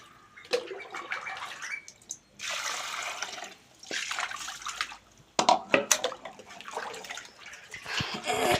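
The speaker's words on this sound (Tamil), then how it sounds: "அம்மா மீன் கழுவுறாங்க" Water splashes and pours in bursts as a woman washes fresh fish, Sankara fish, by hand at home, several loud sloshing passages separated by brief pauses and clatters.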